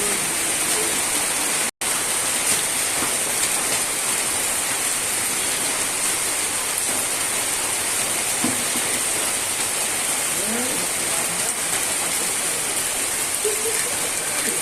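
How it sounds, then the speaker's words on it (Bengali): Heavy rain pours down outdoors in a dense, unbroken hiss that stays loud and even throughout, with a very brief dropout near the start. "চরম পরিমাণে বৃষ্টি হচ্ছে"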